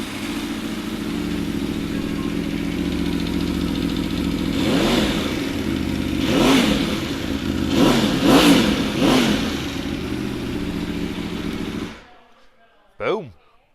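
An Aprilia Tuono V4 sport motorcycle with an Akrapovic exhaust runs steadily, then revs hard in several sharp bursts, loud and close, before cutting off into near silence with a brief final sound.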